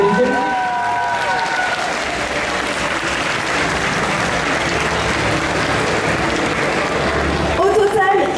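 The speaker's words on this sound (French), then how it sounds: "Je vais vous demander un tonnerre d'applaudissements" A cosplay contest audience bursts into loud, sustained applause with dense clapping and crowd noise, and a voice briefly comes through at the end.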